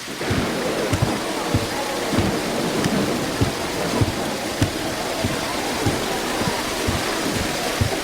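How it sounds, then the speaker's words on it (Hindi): Steady rain falls with repeated low thunder rumbles and cracks at irregular intervals, a dense wet hiss running throughout. "तुम तो बारिश को देखो"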